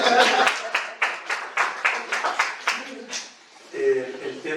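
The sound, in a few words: applause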